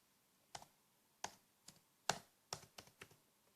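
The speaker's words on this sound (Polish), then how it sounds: "Zachowaj nowe hasło." Keys on a computer keyboard clack in a short irregular burst of about eight taps, close and fairly quiet, while a new password is typed, with no voices.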